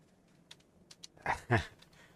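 Fingers tap a few keys on a new computer keyboard, scattered soft clicks at close range, then a couple of louder thuds near the end.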